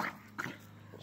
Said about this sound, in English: Will you quit your barking?